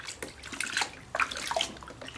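Water splashes and trickles in a bath as a poseable vinyl reborn baby boy doll is washed, with soft uneven sloshing up close at a quiet level.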